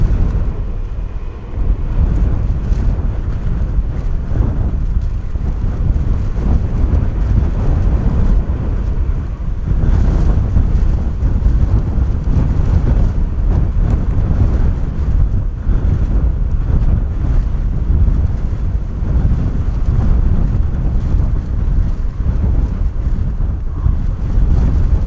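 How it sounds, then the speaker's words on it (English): An EasyJet Airbus A320 at full takeoff power gives a sustained, loud, broadband roar, heavily buffeted by strong gusty wind at an airport, with no talking. "EasyJet power set, heading out to Ibiza."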